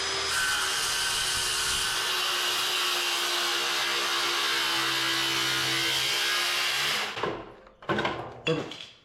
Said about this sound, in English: we'll go ahead and just cut this off, but this way the actual saw has something to ride on